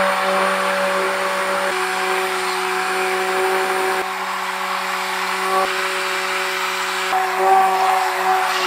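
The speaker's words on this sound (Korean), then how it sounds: "자, 그럼 지금부터 이 드릴로 하는데요." An electric drill churns a batch of homemade natural wetting agent, a liquid soap-like mix for the garden, in a steady, loud, continuous whine with a constant motor hum and no pauses.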